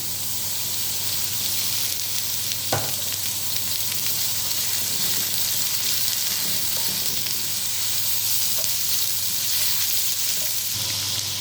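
Onions fry in hot oil for vegetable spring rolls, a loud, continuous sizzle with a brief clink of a utensil early on and no talking.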